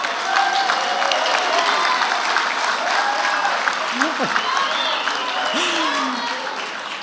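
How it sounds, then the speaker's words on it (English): Ceremony crowd at a sports hall of fame enshrinement applauds and cheers steadily and fairly loudly, a dense continuous wash of clapping with scattered whoops and voices mixed in throughout. "He brings his own cheering crowd."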